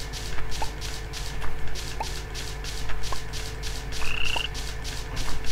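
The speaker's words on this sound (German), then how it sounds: "die Grillen fangen auch schon an zu zirpen" Night ambience in the voxel sandbox game Minetest, with a steady pulsing insect-like chirp looping throughout alongside sparse short high calls and a brief whistle-like tone, no talking.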